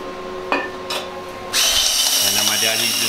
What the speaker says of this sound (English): He's just grinding down for the O2 bung for the wideband gauge